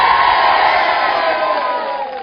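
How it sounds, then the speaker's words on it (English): A school audience at a live author event in Forest Hill School cheers and whoops together, a loud sustained roar of many voices that slowly fades. "Cheer from the audience."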